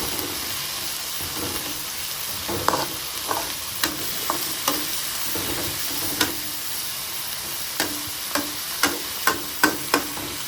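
Dried fish frying in a pan with a steady sizzle and hiss, broken by a dozen or so sharp scrapes and clinks of stirring that grow more frequent toward the end, with no talking.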